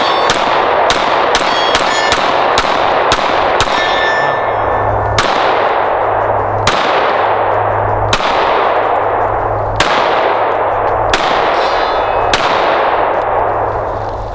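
Pistol shots from a Smith & Wesson or Sig Sauer handgun during test firing, a rapid string of sharp, loud cracks close by, some spaced and some in quick succession, each ringing out with a metallic tail.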